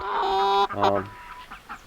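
Chickens in a chicken tractor cluck and squawk close by, a loud drawn-out call followed by several shorter clucks tapering off.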